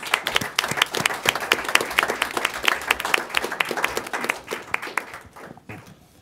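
Audience applause at a city council meeting in Roy, filling an indoor chamber with dense, steady clapping from many hands that holds for several seconds before thinning out and fading near the end.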